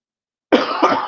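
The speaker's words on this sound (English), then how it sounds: "So if I cough again, I will mute it for you." A single sharp, loud cough bursts out close to the microphone after half a second of silence, then trails off in a rough, breathy tail.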